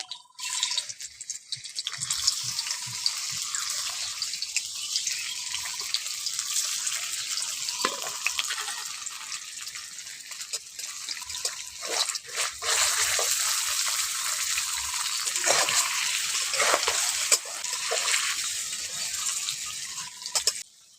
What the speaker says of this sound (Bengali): ওই তেলের মধ্যে পনির দিয়ে দিচ্ছি।